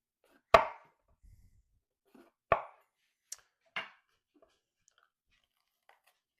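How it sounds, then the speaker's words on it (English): A knife cuts down the seams of a pepper on a cutting board while Philly cheese steaks are being made. Four sharp, isolated chops and thuds are spaced a second or so apart, close and clear, with quiet in between. "take your knife, start at the bottom, and run your knife down those seams"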